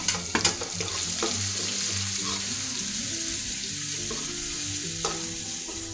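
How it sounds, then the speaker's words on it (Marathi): Green chilies roasting in a pan for dahi kadhi, a continuous close sizzle with crackles and a few sharp clinks of a spatula against the pan, no one speaking. "त्यानंतर मिरची भाजून घ्यायची।"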